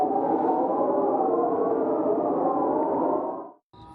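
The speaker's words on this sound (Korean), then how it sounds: "밤 9시 마을 전체에 공습 경보 같은 사이렌 소리가 울려 퍼집니다." An air raid-like siren from a North Korean loudspeaker broadcast rings across a village 3 km from the military demarcation line at night: one loud, sustained, even wail that cuts off abruptly near the end, with no talking.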